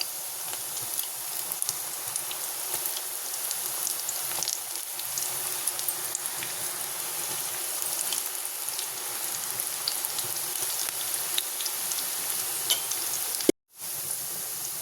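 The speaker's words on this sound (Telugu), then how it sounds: "ఈ నురుగంతా పోయేదాకా ఫ్రై చేసుకుందామండి" Onion pakoda deep-fries in hot oil, a steady, dense sizzle and bubbling that carries on without a break and cuts off abruptly for a moment near the end.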